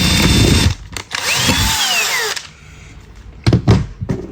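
A power drill whines loudly through most of the clip, its pitch sweeping as it bites into a coke can for a lantern, then brief stop-start bursts near the end.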